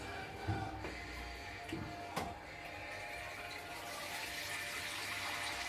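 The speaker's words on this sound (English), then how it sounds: "What we need to do is put enough water in this so the potatoes are covered" Water is poured into a pan of potatoes and sausages for lemon sausages, a quiet, steady trickling and gushing that builds slightly, with a few soft knocks early on.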